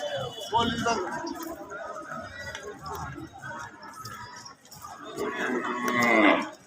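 Cattle low and moo amid a busy outdoor crowd at a traditional village cattle market in Dharmapasha, Sunamganj, Bangladesh, with chatter and voices mixing throughout.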